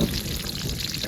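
Green chilies, onion and garlic tipped into hot oil together, giving a dense, steady rush of loud hissing sizzle that fills the whole brief moment without pause.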